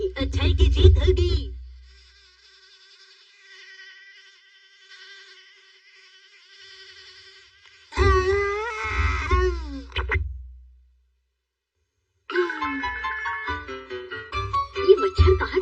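A cartoon mosquito's thin, steady buzz drones faintly for several seconds in a Shinchan episode, framed by bursts of music and voices before and after.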